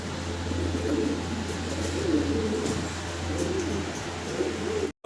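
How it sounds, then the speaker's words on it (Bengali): Fancy Polish owl pigeons coo in soft, repeated rolling calls, close by, over a steady low hum, while faint scuffs and flutters come from the birds moving about. "দেখেন খুব ছোটাছুটি করতেছে খুব চঞ্চল সুস্থ সবল আছে সবগুলো কবুতর"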